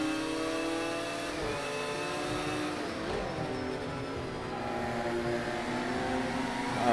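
Mercedes and McLaren GT race cars in Project CARS 2 at Laguna Seca, engines droning and revving steadily with rising and falling pitch as the cars run close together, continuous and fairly loud with no talk.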